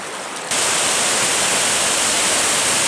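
A waterfall in Dolly Sods Wilderness, West Virginia, roars as a dense, steady broadband rush, loud and close, with no voices over it.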